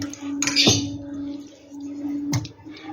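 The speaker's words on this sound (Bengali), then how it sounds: "এবার আমি মাংসটা আমি দিয়ে দিচ্ছি এখানে।" Raw chicken leg pieces are dropped into a bowl for a masala chicken recipe, giving two soft, wet thuds with a light clatter against the bowl over a steady low hum.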